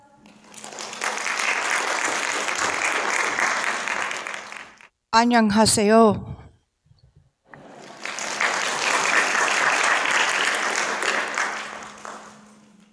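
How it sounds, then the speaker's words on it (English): Sustained applause from a conference audience welcoming the president of AECT, broken by a short spoken greeting in the middle, then the clapping resumes just as strongly. "Would you welcome her with big applause?"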